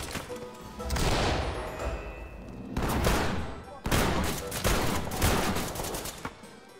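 Shotgun and rifle fire in the tactical shooter Ready or Not: dense, loud bursts of gunfire come in overlapping volleys with brief gaps, and voices speak faintly underneath.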